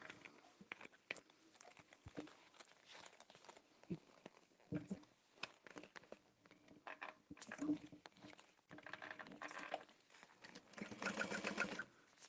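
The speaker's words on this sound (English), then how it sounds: "Okay, so I'm gonna sew around that." Sewing machine stitching a Dreamer Pack backpack, running in short irregular bursts and pauses under low, quiet background sounds.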